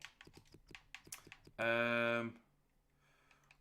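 Quick, light clicks of computer keyboard typing, up close, with a loud sustained game tone and some quiet talk in between.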